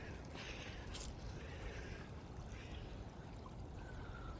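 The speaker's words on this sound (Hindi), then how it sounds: "यहाँ ये नदी तो अपनी रफ्तार में बह रही है" A river runs fast and high after snow, a steady, dense rush of water that is loud and close and stays even from start to finish, with no voices.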